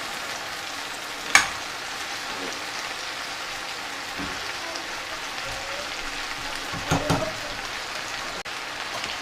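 Meat fries in a pan with a soft, steady sizzle and crackle, broken by a few louder scrapes and clanks as it gets stirred, fairly quiet overall.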